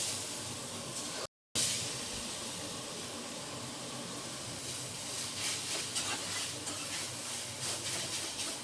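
Sun-dried mango pieces fry in oil with turmeric in a wok, a quiet steady hiss and sizzle with faint stirring, broken by a brief dropout near the start.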